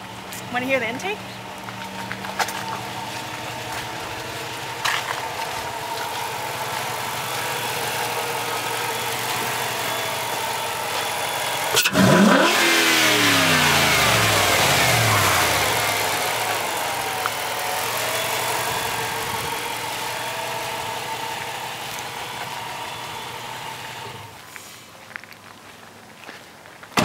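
A 2005 Jeep Grand Cherokee 5.7 V8 with modifications idles steadily, then gets one sharp rev through the intake that swells and falls back, with shuffling and faint movement around it.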